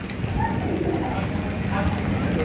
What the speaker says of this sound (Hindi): ये होते हैं बाजरे कबूतर, बहुत ही लाजवाब और बेमिसाल कबूतर हैं